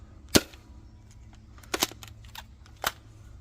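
Modified Nerf Knockout toy blaster firing foam darts: a sharp snapping pop, then a quick double pop and one more, each short and crisp over faint background noise.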